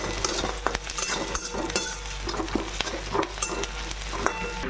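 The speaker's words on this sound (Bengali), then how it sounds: "পেঁয়াজটা ভাজা হয়ে গেছে" Onions with a pinch of sugar sizzle in a pan for chicken curry, a constant close frying crackle punctuated by sharp scrapes and clinks of a stirring spoon against the pan.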